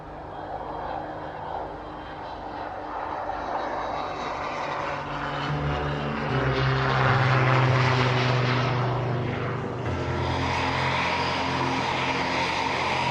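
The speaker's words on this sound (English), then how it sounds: "Flight Lieutenant Tom Bold, the 2010 Royal Air Force Tucano display pilot." An RAF Tucano propeller trainer flies an airshow display, its engine drone rising to a loud, close pass midway before easing off, heard over a faint outdoor crowd hum.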